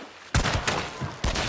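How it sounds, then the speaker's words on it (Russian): Close, loud gunfire in Hunt: Showdown, with two bursts of shots and a brief rapid series of reports between them. "Я стреляю."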